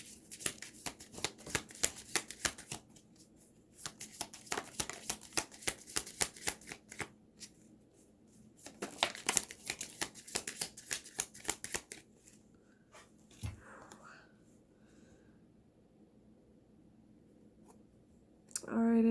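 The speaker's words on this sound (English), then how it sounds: "let me pull up a few more cards" Tarot cards are shuffled in several rapid riffling bursts separated by quiet pauses, close and crisp, with soft talk near the end.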